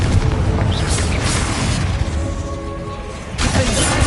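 A Confringo fire spell explodes in Hogwarts Legacy, a loud booming blast with crackling debris that fades, then a second burst near the end.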